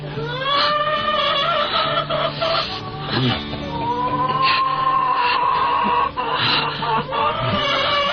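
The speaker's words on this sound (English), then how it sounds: "That is a chicken crying." A chicken makes drawn-out, wavering cries and clucks, loud and close, repeating over a steady background hum.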